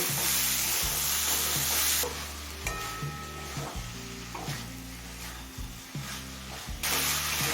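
Snake gourd with turmeric cooks in a pan over a medium flame, giving a continuous sizzle with occasional stirring scrapes under background music.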